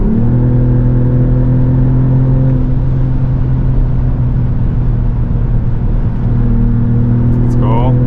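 Cabin drone of a 2025 Mercedes-AMG GLE53 hybrid coupe facelift under way, a steady loud engine hum with a brief change in pitch midway as it shifts, and a faint chirp near the end.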